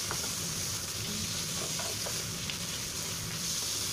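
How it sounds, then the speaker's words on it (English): Pork stir-fries in a pan for a Chinese-style dish with chives and dried tofu, a continuous, even hiss and sizzle with light scraping from stirring, steady throughout. "then let's start to cook the meat"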